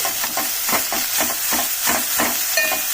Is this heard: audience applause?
no